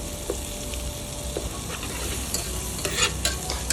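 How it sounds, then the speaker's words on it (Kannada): Chopped capsicum frying gently in butter on a low flame for pasta, a close steady sizzle with intermittent crackles and a few light scraping stirs. "ಅದಕ್ಕೆ ಬಟರ್ ಹಾಕಿದ್ದೀನಿ ಸ್ವಲ್ಪ ಹಾಗೆ ಲೋ ಫ್ಲೇಮಲ್ಲಿ ಫ್ರೈ ಮಾಡ್ತಾ ಇರಬೇಕು"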